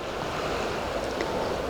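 Steady wash of ocean surf rolling in, a broad continuous roar with soft swells and faint wind, no voices.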